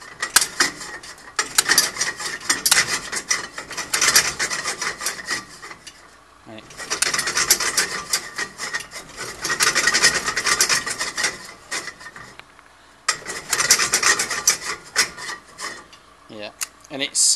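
A motor coupling mechanism on a 12-volt single battery turns with rough, scraping, grinding bursts in three long runs separated by short pauses, fairly close and uneven in loudness.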